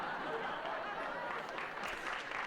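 A real studio audience applauds during a sitcom, producing a brief burst of moderate, steady clapping at a slight distance, with a voice audible faintly beneath it.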